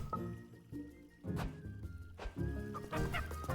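Chickens cluck in a video game, several quick bursts of clucking and squawks over soft thuds and background game music, close and clear across a few seconds.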